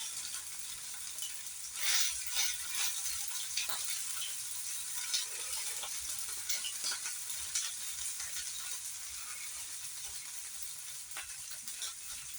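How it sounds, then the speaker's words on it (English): Steady oily sizzling and crackling of hash browns shallow frying in oil in a pan, close and continuous, with occasional louder spits and pops. "I'm just shallow frying mine."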